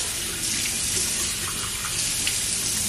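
Warm water runs steadily and loudly from a tap into a sink for face washing. It is a continuous close hiss and splash with no talking.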